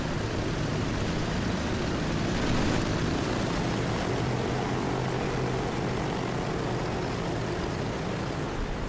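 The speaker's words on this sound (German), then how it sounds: "Haben jetzt amerikanische Flugzeuge." American propeller airplane in the video game Transport Fever 2, a steady, loud droning engine roar that holds evenly throughout with no voices over it.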